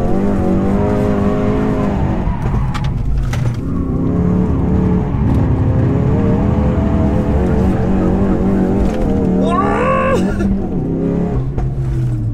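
A drift car, either a Ford Focus RS or a BMW E30 330, revs hard with a loud, continuous engine roar. Tires squeal sharply around the ten-second mark.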